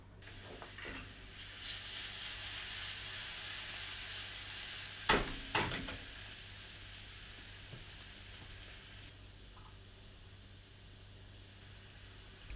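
Small Italian chili peppers fry in a generous amount of oil, a steady soft sizzle hissing for several seconds, with a couple of brief clinks midway before the sizzle quiets.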